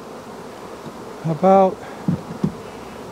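Honey bees working a hive in Appalachia during a mountain mint flow; one close buzz swells for about half a second midway, followed by two brief faint blips against quiet background.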